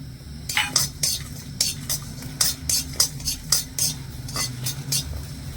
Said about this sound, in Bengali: গোটা ধনে গোটা মৌরি আর গোটা জিরে আর তিনটে শুকনো লঙ্কা শুকনো খোলা একটু টেলে নেবো